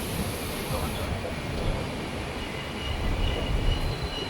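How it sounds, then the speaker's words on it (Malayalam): A passenger train rolls toward a station platform with a steady low rumble and broad rail noise that swells slightly toward the end, heard from on board. "ട്രെയിൻ ശരിക്കും പ്ലാറ്റ്ഫോമിലേക്ക് സ്റ്റോപ്പ് ചെയ്യും മുന്നേ"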